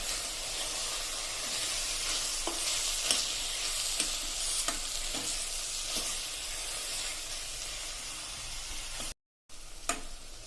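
A spoon scrapes and stirs ground coriander, cumin and spices in a sizzling pan, with steady frying hiss and several sharp clinks against the metal.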